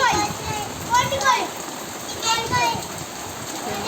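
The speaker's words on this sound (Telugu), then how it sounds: "ఫుల్ వర్షం వస్తుంది ఫ్రెండ్స్" Heavy rain pours steadily as a dense hiss, with voices of children talking over it.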